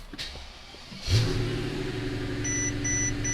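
A Mercedes-Benz S600 V12 engine starts up after a dashboard chime, catching with a brief rev and settling into a steady idle, close up, with faint warning beeps repeating over the engine.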